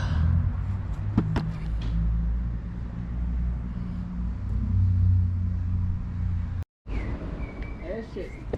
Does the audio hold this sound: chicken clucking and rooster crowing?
no